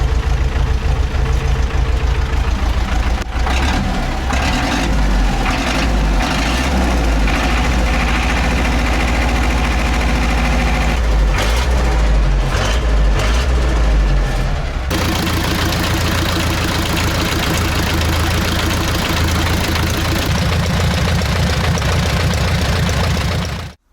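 ZIL truck crane fitted with a D-240 diesel engine runs steadily at close range, a loud, continuous low rumble with knocking texture throughout, and a shift in tone about midway before it cuts off at the very end.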